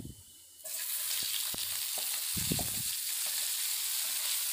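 Diced potatoes with mustard seeds, cumin and urad dal drop into hot oil and set off a sudden, steady close sizzle, with a few soft stirring knocks beneath it.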